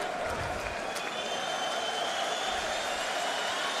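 A sellout boxing arena crowd applauds Ricky Hatton, producing a steady, distant wash of clapping and crowd noise that holds evenly throughout, with commentary faintly underneath.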